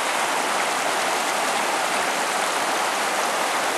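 A mountain waterfall beside a lake in the Nine Lakes Basin gives a dense, steady rush of falling water, loud and close, with no pause or voices.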